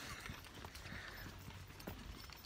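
A horse's hooves clip-clop quietly in the Chianti countryside, faint uneven hoofbeats over a soft background hiss with no speech.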